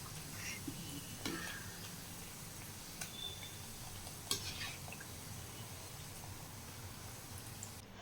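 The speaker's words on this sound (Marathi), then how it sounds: "आता आपण तळून घेऊया हे बघा या पद्धतीने चिरोटे तळून घ्यायचे आहेत" Chirote, sweet layered pastries, deep fry in oil with a soft, continuous bubbling sizzle, broken by a few brief clinks and taps of a utensil against the pan.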